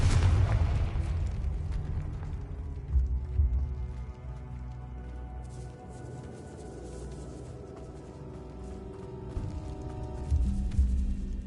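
The Confringo fire spell in Hogwarts Legacy sets off heavy booming blasts, deep rumbling detonations that swell at the start and again near the end, with a lower roar and faint tonal game sounds between them.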